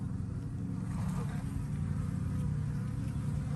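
Honeybees of Buckfast stock buzz steadily at a beehive entrance, a close, continuous droning hum as bees fly in.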